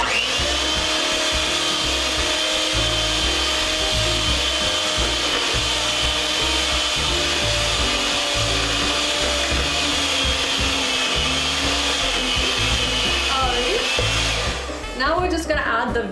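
An electric mixer whirs steadily through thick Christmas cookie batter as flour is worked in, a continuous motor hum with rhythmic beater churning that runs unbroken for many seconds before clattering to a stop near the end.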